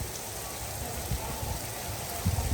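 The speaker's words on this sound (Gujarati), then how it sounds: "લાઈવ કડાકા ભડાકા સાથે વરસાદ વરસી રહ્યો છે" Heavy rain pours steadily in Patan, a dense, even hiss of downpour with low drumming on surfaces throughout and no voices.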